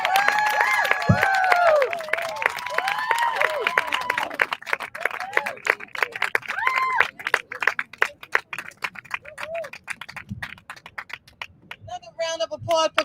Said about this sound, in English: Another round of applause for Carla Newhouse.